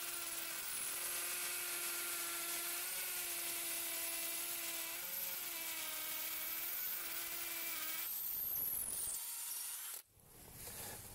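A cordless drill driver, Parkside PABSP 20 Li C3 or DeWalt DCD709N 18V, runs with a steady high motor whine for about eight seconds, then shifts to a rougher burst before stopping abruptly near the end.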